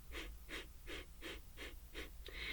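Slow, even breaths exhaled through a closed mouth during a calming breathing exercise, with about six soft, airy pulses repeating at a steady rhythm, close and fairly quiet, and no talking.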